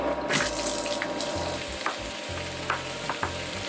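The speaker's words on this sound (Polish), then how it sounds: "Mam tu olej, trochę wleję, wrzucamy cebulę." Chopped onion hits hot oil in a pan at a family home in Japan, giving a bright sizzle and crackle with some stirring and clattering at close range, and no talking.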